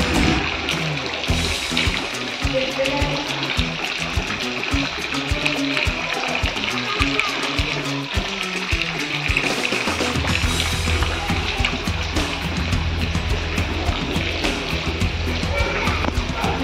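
Floodwater fills a Hindu temple courtyard at Beejasan Mata Mandir in Kadvaya, with a steady, loud rush and splashing running throughout, and someone talks over it.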